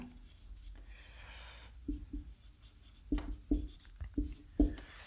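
A pen scratches across paper during a class 12 maths lesson, with short quiet strokes and taps building into a few firmer bursts, close and faint, with no talking.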